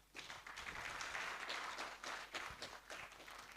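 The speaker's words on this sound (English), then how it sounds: "Let's give the minister another clap." An audience claps for a minister at an African STEM event, a dense, steady patter of many hands filling the room for a few seconds without pause.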